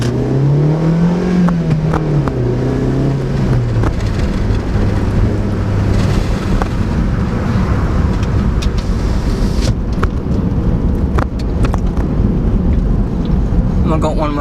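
A Suzuki Swift Sport engine climbs in pitch under acceleration, falls back through a gear change, then holds a loud, steady drone with road and wind noise. A person talks over the engine inside the car.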